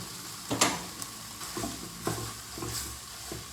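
Pad Thai noodles frying with egg in a hot pan, a quiet sizzle broken by several scraping stirs and tosses spaced unevenly across the clip.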